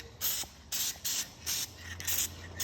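Spray coating going onto a Yamaha Banshee part, heard as about six short hissing bursts of an aerosol or spray gun, each roughly a third of a second, separated by brief pauses, close and fairly loud with no talking.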